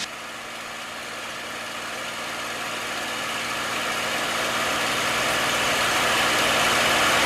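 A P-51 Mustang's piston engine drones steadily as the aircraft dives to gain speed, a continuous broadband roar that slowly builds in loudness with no talking.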